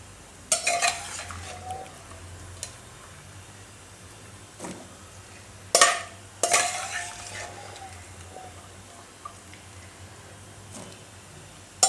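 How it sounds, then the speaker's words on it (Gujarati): Boiled chickpeas tipped into a metal pan for dahi chhole, then stirred with a utensil: a few sharp clatters and scrapes stand out over a low, steady sizzle, with quieter occasional knocks. "તો આને આપણે આમાં નાખી દેવું ચણાને."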